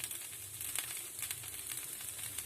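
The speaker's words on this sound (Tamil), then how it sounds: "பருப்பு வந்து கடலைப்பருப்பு கொஞ்சம் அதுக்கு லைட்டாக பொரியட்டும்" Chana dal fries lightly in hot oil with a steady, dense sizzle and crackle that carries on unbroken, fairly close, with no talking over it.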